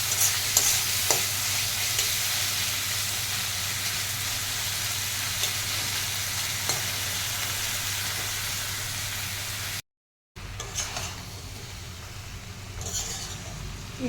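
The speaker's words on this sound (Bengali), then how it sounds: "এঁচোড়টা কষানো হচ্ছে।" Raw jackfruit and potato sautéing with spices in a pan, giving a constant close sizzle over a low hum, with faint scrapes of stirring and a brief break near the end.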